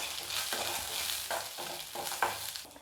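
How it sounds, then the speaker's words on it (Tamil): Peanuts and roasted gram being dry-roasted for a chutney scrape and rattle in a pan under steady stirring, a soft continuous churning with a light hiss and no voices. "நல்லா அது மாதிரி கை நிறையா சேர்த்துட்டு ஒரு 30 செகண்ட் நம்ம வந்து வறுத்துக்கிட்டால் போதும்."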